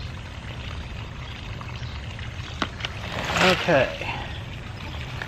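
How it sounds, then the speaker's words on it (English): Dirty water from cleaning brass cartridge cases is poured out of a brass tumbler, giving a short splashing pour near the end under background noise, with a brief spoken word. "Now we want to get all this nasty water out of here."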